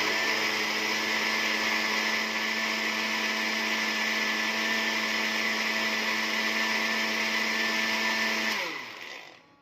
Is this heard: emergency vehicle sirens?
no